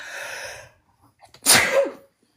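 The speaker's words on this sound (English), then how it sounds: "Oh my gosh, I'm going to sneeze." A single loud sneeze, close up, preceded by a sharp breath in after a stretch of quiet.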